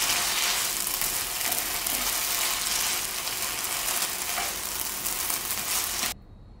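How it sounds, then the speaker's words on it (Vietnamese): Loud, steady sizzling from keto octopus noodles and bok choy stir-fried in a hot pan, with faint scraping of stirring, before the sound cuts off abruptly near the end. "Bây giờ chúng ta chỉ cần đảo vài lần nữa là có thể gấp ra ăn được rồi đó mọi người"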